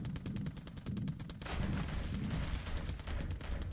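A torpedo strikes a cruiser in a naval war game set in December 1941, heard after a run of rhythmic rattling bursts as a sudden denser, louder blast of rumbling impact noise that carries on to the end.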